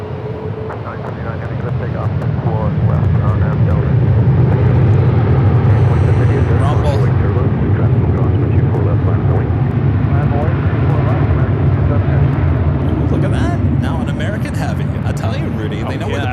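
A Delta Airbus A330-200 heavy jet takes off at Los Angeles International Airport, its engine roar swelling within seconds into a loud, sustained rumble that dominates, with voices heard faintly beneath.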